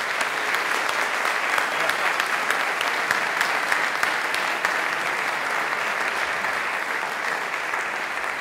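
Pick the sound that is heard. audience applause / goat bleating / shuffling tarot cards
audience applause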